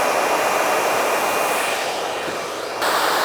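A handheld blow dryer drying hair during a professional blowout, a loud steady rushing whir that holds near and constant, with a brief dip in airflow toward the end before resuming.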